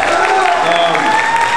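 Audience applause at a high school choir holiday concert, a dense continuous wash of clapping from a full hall, loud and steady throughout with no pauses.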